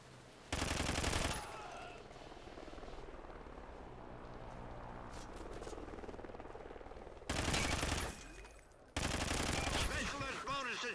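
Gunfire crackles in the video game Containment, with loud sustained bursts of shooting separated by quieter stretches of background game noise, heard up close.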